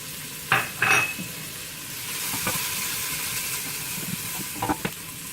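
Garlic and ginger hit a pan of translucent onions, giving a steady close sizzle with a few louder bursts of stirring and utensil clatter near the start and end.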